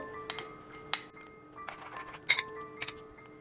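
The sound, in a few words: stirring milk powder sweet mixture in a pan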